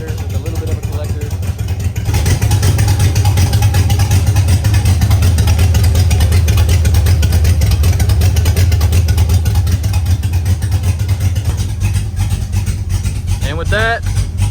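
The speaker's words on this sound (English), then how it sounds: "up to temperature at idle right now. No exhaust, just straight out of the header with a little bit of a collector." An LS-swapped Mustang V8 idles loud and steady at operating temperature, running open headers into a small collector with no exhaust, a deep lumpy rumble that starts abruptly a couple of seconds in and continues throughout.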